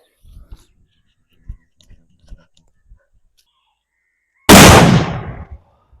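A three-quarter-kilo Valangaiman country cracker explodes in a single loud boom with a rolling tail, after several faint taps and soft murmurs outdoors.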